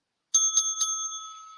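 A bright bell rings three quick times, then its tone rings on and slowly fades, loud and clear with nothing else heard.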